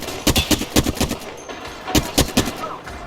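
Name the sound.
gunfire from Apex Legends video game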